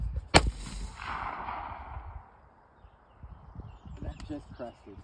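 A launcher fires a single loud, sharp shot at a tannerite target. A long rolling rumble follows and fades out, then scattered faint knocks and rustles come through near the end.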